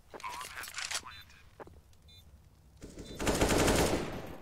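Rifle spray bursts from a Counter-Strike match on the Nuke map ring out in short rapid volleys, ending in a louder sustained burst, with a caster talking excitedly between and over the shots.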